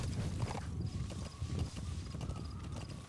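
Horse hooves clip-clop steadily at a walking pace in the Metal Gear Solid V video game, fairly loud and continuous over soft game ambience.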